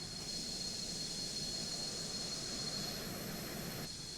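Jet engines of a G39 Griffin aircraft in Microsoft Flight Simulator give a steady, even roar with a faint high whine on top, constant throughout with no talk.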